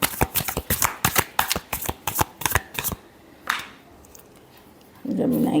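Tarot cards being given a final shuffle: a quick run of about a dozen crisp riffling snaps, close and clear, then a single flick, a quiet pause and a low rustle.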